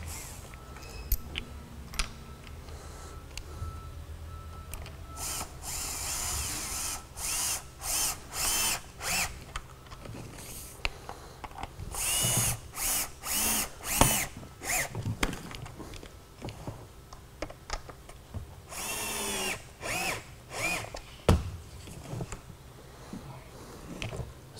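A power drill drives a screw into a backpack vacuum motor against rubber grommets, in repeated short bursts of whirring with clicks and handling noise between them, close and moderately loud, no talking.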